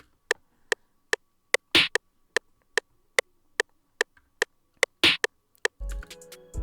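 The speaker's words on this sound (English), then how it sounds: "Next we got a no lie snare" A "no lie" snare drum sample in an FL Studio beat hits alone in a steady, evenly spaced pattern of crisp, short snaps, with two louder accented hits and a brief burst of other sound at the end.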